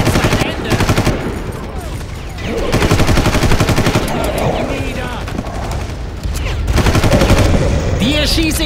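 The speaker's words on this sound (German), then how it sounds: "Dir schieße ich direkt zwischen die Augen" Dense rapid gunfire from the Far Cry game rattles in loud sustained bursts with brief lulls, with someone talking over the shooting.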